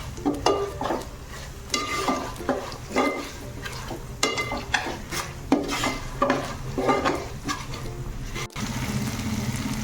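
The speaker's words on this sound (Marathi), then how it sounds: "आलं लसणीचा उग्रपणा जो असतो तर तो जाईपर्यंत आपण याला व्यवस्थित परतवून घेऊया" Ginger-garlic paste sautéing in a pan for pav bhaji, with repeated scraping and stirring strokes of a spatula against the metal over a soft, steady sizzle, close and alone.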